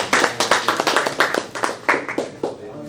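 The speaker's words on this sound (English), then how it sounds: "Please give them a round of applause." Audience at a brain drain debate seminar applauding the panel speakers: a short burst of fairly close, uneven hand claps from a modest number of people, loud, with a faint voice mixed in.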